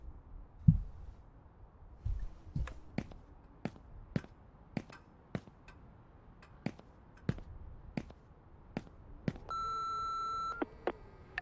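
A voicemail message beep in the horror game Remothered: Broken Porcelain, a tone held for about a second near the end after a series of sharp, evenly spaced ticks and clicks, with no talking.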